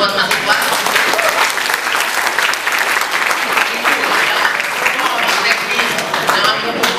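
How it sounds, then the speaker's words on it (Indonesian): A media gathering for the LA Light Indie Movie 2013 at JNM gives Mas Iva a round of applause: loud, close, continuous clapping from a packed room that stays strong for about seven seconds, with voices faintly mixed in. "Tepuk tangan buat Mas Iva."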